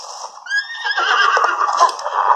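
A horse in Zelda: Breath of the Wild gives a loud, clear whinny with a descending pitch. Busy game noise follows it and continues to the end.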